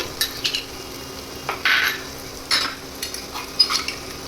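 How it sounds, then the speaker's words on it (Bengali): Onions browned in a pan for Bengali aloo dum, with garlic paste going in: a soft sizzle under several scraping, stirring bursts from a spatula, close by and uneven in rhythm. "পেঁয়াজটা আমার লাল লাল করে ভাজা হয়ে গেছে এবার এক চামচ রসুন বাটা দিয়ে দেবো"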